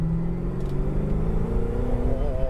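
The engine of a prototype Ford GT rises in pitch as the car accelerates, a loud close rumble and climbing drone heard from inside the cabin.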